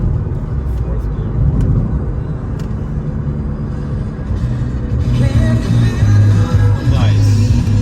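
A BMW E46 M3 convertible with the S54 straight-six pulls hard in fourth gear, a steady loud engine drone and road rumble rising in pitch toward the end, with occasional speech over it.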